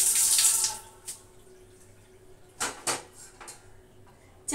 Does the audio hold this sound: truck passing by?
no